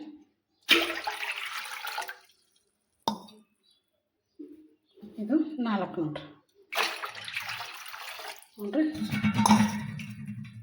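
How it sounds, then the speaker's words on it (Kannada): Water splashes and pours into a cooking pot in several bowlfuls, four in all, each lasting a second or two, while a person talks between and over the pours. "4 ಬೌಲ್ ನೀರು ಹಾಕಿ ನೋಡಿರಿ"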